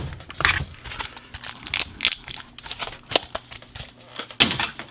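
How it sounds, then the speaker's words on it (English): A laptop keyboard being pulled out during disassembly, with irregular plastic clicks, crackles and crinkling snaps in close, uneven bursts, no talk. "So let's get the keyboard out."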